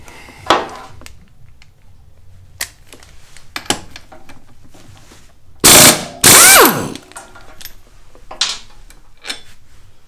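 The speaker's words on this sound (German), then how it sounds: "Der Druckluftschlagschrauber" A pneumatic impact wrench works the axle nut of a Vespa GTS 300 scooter with a 24 mm socket. Scattered mechanical clicks and taps lead up to two loud, rattling hammering bursts in the middle, followed by more light clatter.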